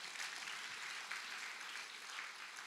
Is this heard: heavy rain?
no